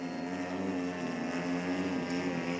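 A radio-controlled T-45 model jet comes in to land with its engine throttled back, giving a steady, fairly loud whine with a low hum underneath that holds even throughout and never drops away.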